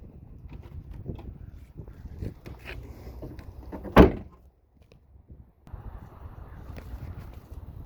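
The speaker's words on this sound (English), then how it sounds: "Trunk latch." The trunk latch of a 2010 Dodge Challenger SRT-8 closes with one loud, sharp thunk amid soft handling noises, followed by a brief quiet.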